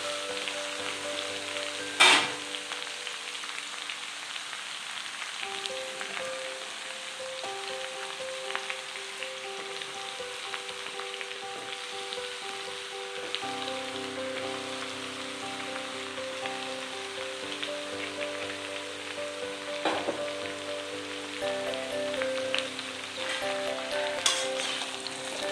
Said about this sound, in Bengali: সবজিগুলো একটু ভাজবো।